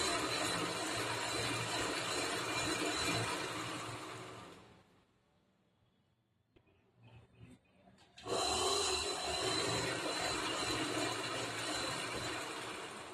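Sewing machine stitching a cloth border onto fabric for a zigzag fall, a loud steady mechanical whir that runs continuously, cuts out for a few seconds, then resumes at full strength.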